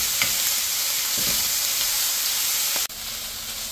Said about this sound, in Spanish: Vamos a estarlo moviendo para allá y para acá constantemente a fuego medio.